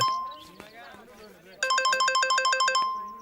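After a voice and a short electronic sweep, a phone ringtone starts up, chirping in rapid, regular electronic pulses, loud and close.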